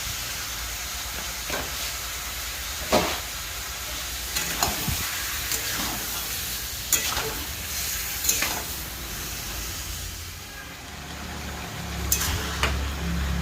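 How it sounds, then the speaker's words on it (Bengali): Chicken pieces sizzle with salt in a pan. A continuous fry hiss is broken by several sharp scrapes and clacks of stirring spaced a few seconds apart, close to the listener. "লবণ দিয়ে চিকেনগুলোকে আমি একটু লাল লাল করে ভেজে নেব।"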